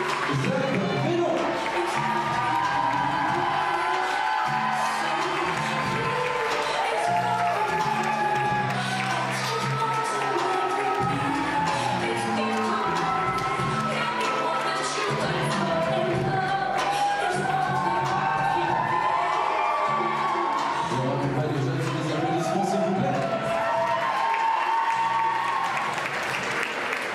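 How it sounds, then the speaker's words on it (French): A pageant audience at Miss Saône-et-Loire applauding a candidate, with dense sustained clapping and some cheers from a large crowd, loud and continuous, with voices faintly mixed in. "On va vous applaudir bien fort s'il vous plaît."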